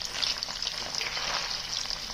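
Garlic fries in oil for paneer chilli, a soft, steady hissing sizzle with light crackle, fairly quiet and uninterrupted, with no talking.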